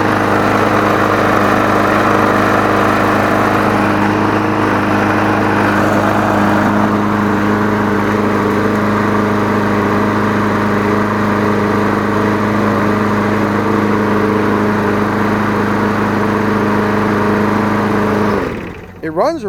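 A trashed lawn mower's engine runs steadily with a pronounced vibration from a suspected bent crankshaft, a loud, even drone with a low hum that cuts off abruptly near the end, while someone talks over it.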